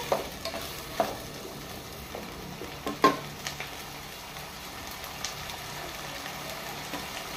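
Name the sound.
peas frying and being stirred in a pan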